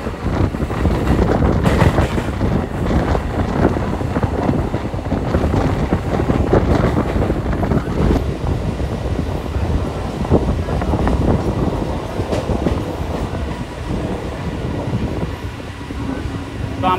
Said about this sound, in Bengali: ছেড়ে দিল আমাদের ট্রেনটি কাকিনাড়া রেলওয়ে স্টেশন থেকে